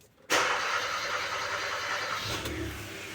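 A car engine, warmed up after an actuator repair, kicks in abruptly after a brief quiet moment. It then runs at an even, steady idle hum, moderately close, with no talking.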